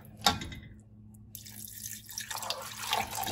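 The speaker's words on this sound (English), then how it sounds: "So now I'm gonna add 3 cups of water" Water pours and splashes into a pot of spaghetti sauce, starting with a brief burst, a short pause, then a steady gurgling stream.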